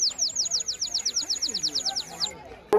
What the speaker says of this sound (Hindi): इसमें मतलब पानी भर के सिर्फ फूक मारने का तो चिड़िया ऐसी आवाज करेगी